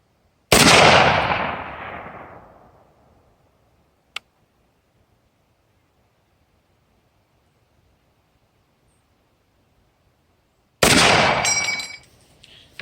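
An M1 Garand rifle fires downrange outdoors: a loud sharp report with a long echoing decay, followed after a long silent gap by a second loud shot near the end, plus a faint metallic click in between.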